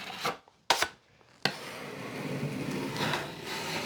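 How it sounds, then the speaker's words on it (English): A drywall taping knife scraping and smoothing joint compound over paper tape on a wall seam, a couple of sharp scrapes followed by a longer continuous gritty drag, heard close with no talking. "Make it a little smoother to run the knife over the top."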